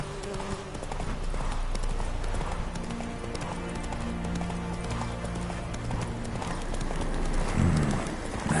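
A horse gallops in The Witcher 3: Wild Hunt, with steady rapid clip-clop of hooves close up over a continuous game ambience, and a brief whinny.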